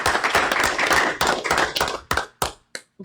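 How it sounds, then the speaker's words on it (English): A small crowd at a city commission meeting in Clewiston, Florida claps in a steady burst that thins into a few final scattered claps. "Can we give him a round of applause?"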